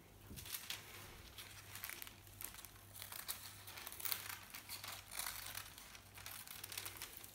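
Scissors cutting through a paper sewing pattern for a raglan-sleeve blouse, with close, quiet crinkling snips and rustles coming in an uneven rhythm of short bursts, without speech.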